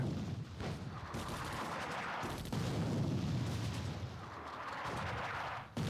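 Gunfire and artillery rumble from troops in the World War II strategy game Attack At Dawn: North Africa, a dense, sustained barrage of booms and shots with no talk.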